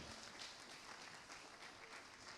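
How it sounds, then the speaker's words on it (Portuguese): Steady applause from a church congregation fills the space, a dense wash of clapping heard at a distance throughout. "Aplaude a Deus pela vida de José, aplaude."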